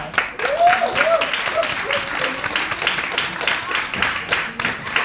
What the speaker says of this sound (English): All right, let's give her a round of applause.